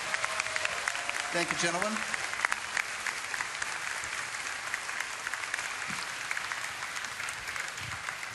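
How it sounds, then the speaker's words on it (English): An audience at a BlizzCon World of Warcraft Cataclysm class Q&A panel applauds steadily throughout, a wide, even clapping wash in a large hall, with someone briefly speaking over it at the start. "You guys, let's give them a round of applause."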